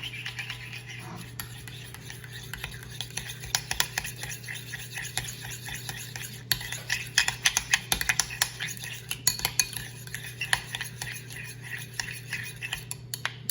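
Pulled jackfruit sandwich filling is stirred in a bowl, with repeated scraping and clinking of a utensil against the dish that grows busier and more rhythmic as it goes, over a steady low background hum.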